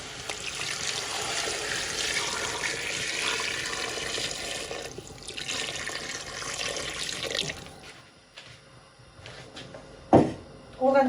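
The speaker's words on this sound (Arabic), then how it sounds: "صافي غنضيفو الماء" Boiling water is poured into a pressure-cooker pot of cow trotters and chickpeas, a steady rushing splash lasting several seconds before it tails off into a few clanks and bumps.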